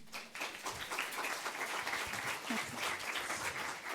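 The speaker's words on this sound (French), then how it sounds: "Est-ce qu'on peut l'applaudir du coup?" Audience at a conference on freelancing gives a round of applause, a dense, steady clapping from a room of people at moderate distance, lasting throughout.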